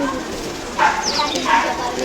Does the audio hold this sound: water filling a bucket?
no